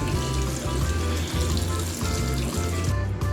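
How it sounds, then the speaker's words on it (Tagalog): Boiled pasta being drained, the hot water pouring out in a steady, continuous rush, loud and close, with low-pitched hum underneath and no speech. "Hanguin na natin, i-drain."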